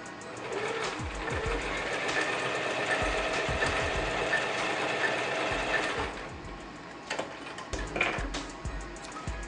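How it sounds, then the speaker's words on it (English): A regular home sewing machine sews a blind hem stitch, running in a steady, close mechanical whir with rapid needle ticking, then pausing and giving a few short bursts of stitching. "that's a blind stitch on your regular sewing machine"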